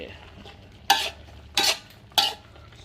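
Bok choy and pork being stirred in a large wok, three sharp scraping, sizzling sweeps of the spatula spaced evenly apart over a quiet background.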